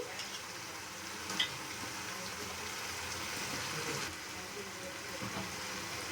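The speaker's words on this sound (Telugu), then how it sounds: "సో అల్లం తెల్లగడ్డ పేస్ట్ ఆయిల్లో బాగా ఫ్రై అవ్వాలి." Ginger garlic paste frying in hot oil in a pan gives a faint, steady sizzle with soft stirring scrapes, continuous and close, at low volume.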